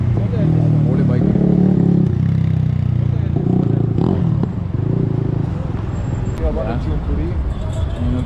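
A motorcycle rides along Chalus Road in northern Iran, its engine a steady droning rumble with clatter and rattle, while people talk over it throughout.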